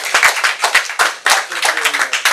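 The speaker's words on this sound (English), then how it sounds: "so let's give them one more round of applause." Lively, dense clapping from colleagues at a company sales meeting, close and loud, with an irregular crackle of many hands that builds and fades in waves.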